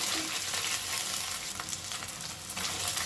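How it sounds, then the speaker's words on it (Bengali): Taro pieces frying in a pan, a steady close sizzle with faint stirring scrapes throughout, no voices. "কয়েক সেকেন্ড কচুটাকে একটু ভেজে নিচ্ছি"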